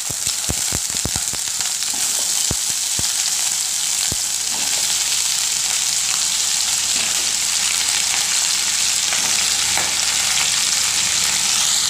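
Raw green banana frying in hot oil, a loud continuous hiss and crackle throughout with a few sharp clicks and pops near the start.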